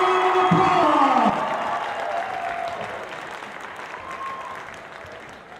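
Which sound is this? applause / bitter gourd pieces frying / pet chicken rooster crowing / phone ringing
applause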